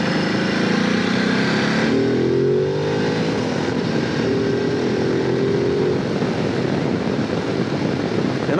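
A 2022 Ducati Desert X motorcycle engine drones steadily while being ridden, with broad wind rush throughout and rising, falling tones as the rider works the throttle, loud and close with no talking.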